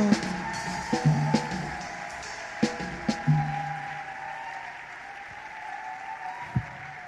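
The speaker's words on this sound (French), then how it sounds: "clap for our Lord." A church congregation applauds in praise during a bilingual French and English worship service, a sustained wash of clapping with a few sharper claps standing out, softening slightly toward the end over a steady low hum.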